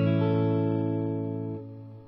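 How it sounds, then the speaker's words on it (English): Korean-made Fender Squier electric guitar through a regular reverb effect, a sustained chord ringing out and slowly decaying over about two seconds, with no voices. "Regular reverb sounds like this."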